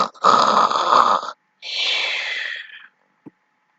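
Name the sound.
person imitating snoring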